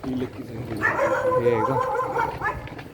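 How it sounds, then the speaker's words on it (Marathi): Dogs bark and yip excitedly up close, a quick run of overlapping yelps and woofs. "चांगलं स्वागत होईल कुत्र्यांकडून आपलं"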